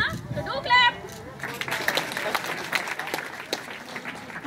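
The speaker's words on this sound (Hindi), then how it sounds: "तालियां बजा के भाई उत्साह वर्धन तो करते रहिएगा" Audience clapping at an academy congratulation event, a burst of applause rising after a brief voice at the start, with scattered crowd chatter underneath.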